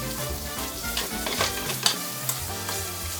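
Fresh raw salmon stir-fried in a pan with ingredients already browned, for an autumn peperoncino pasta: steady close sizzling with stirring scrapes throughout, a couple of sharper clinks standing out, no talking.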